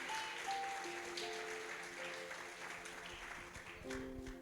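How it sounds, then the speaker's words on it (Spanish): Congregation applauding during a church sermon, a steady broadband wash of clapping under sustained organ or keyboard tones throughout. "Dele un aplauso, porque Dios guardó tu vida"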